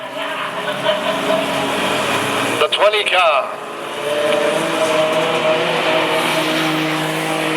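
Junior sedan race car at a speedway locking its tires and skidding on a greasy track, a short harsh squeal rising out of steady engine roar, with a commentator talking over it.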